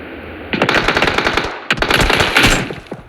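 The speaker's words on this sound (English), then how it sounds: "Switching up to AKM." AKM rifle fire in a video game: two long, loud bursts of rapid automatic shots, close and sharp, separated by a short pause, with no talking over them.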